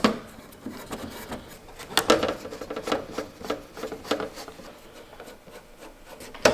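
Steady rasping strokes of sandpaper scrubbing a hard car part on a Nissan 180SX, back and forth in an uneven rhythm, close up with no talking.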